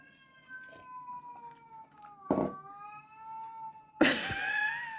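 A cat meows indoors several times: drawn-out, wavering cries with short pauses, the last one loudest and harshest, like a caterwaul.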